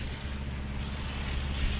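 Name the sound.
boat motoring through waves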